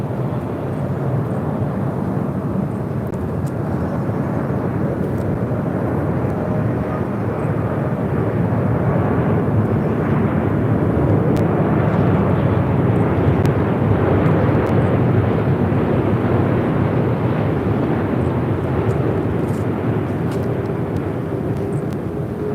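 Lufthansa Boeing 747-8 Intercontinental arriving from Frankfurt at LAX, its jet engines a steady, loud broadband roar that holds at a constant level across the whole stretch, with no talk over it.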